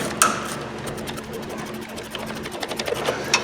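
A power tool steadily winds out a very long bolt on a Chevrolet 1500 pickup, giving a loud, close, continuous whirring buzz with a fast rattling pulse that keeps running without pause, and no one talks over it.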